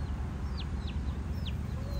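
Chickens in a coop give soft clucks and a few short high chirps over a constant low background hum, fairly faint and steady throughout.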